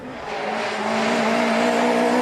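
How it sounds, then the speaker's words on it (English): A rally car at Rally Latvia 2013 on new tyres braking into a corner: a loud, steady engine and tyre roar swells slightly, with no talking. "Here you can see a little bit of left foot braking on the way into the corner there."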